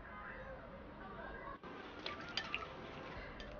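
Beaten egg is poured over raw pork ribs in a bowl, with soft, faint wet drips and splashes clustered toward the end against a steady low background hiss.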